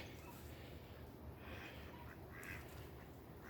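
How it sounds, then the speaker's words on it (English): Mallard ducks quack outdoors on a walk, faint and somewhat distant, a few scattered calls over steady wind and ambient noise. "Mallards."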